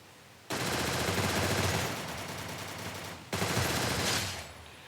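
Automatic gunfire in the Free Fire video game, two dense sustained bursts of rapid shots separated by a brief dip, loud and close with no talking over them.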